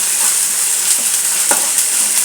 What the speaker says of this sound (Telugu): అల్లం వెల్లుల్లి పేస్ట్ వేసానండి. బాగా ఫ్రై చేస్తున్నాను.